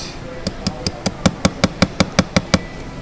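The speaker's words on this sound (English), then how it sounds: "I'm going to take one of my hammers here and I'm going to use it" A hammer taps a pin remover to push a pin from a Fossil watch band link, giving about eleven sharp, evenly spaced metallic knocks that build slightly in force, close and loud.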